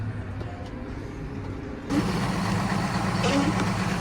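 A heavy diesel tractor engine idles steadily with a low rumble, growing louder and closer partway through on a farm; faint talk drifts in the background.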